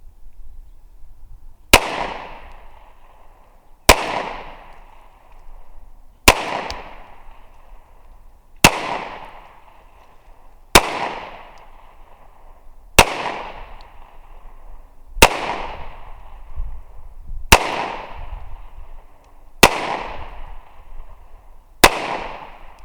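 Sig P365 pistol fired ten times at a slow, steady pace, each shot a loud, sharp crack with a short decaying echo, spaced roughly two seconds apart, and no talking between them.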